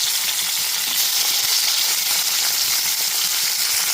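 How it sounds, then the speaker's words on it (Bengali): Pieces of hilsa fish fry in hot oil, being turned in the pan. A dense, steady sizzle and crackle continues loud and close, with no break and no voices. "এবার উল্টে পাল্টে মাছগুলোকে ভেজে নেব।"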